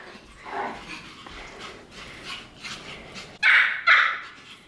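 Several small Pomeranian dogs bark and yip indoors, scattered soft yaps early on, then two loud, sharp barks close by near the end.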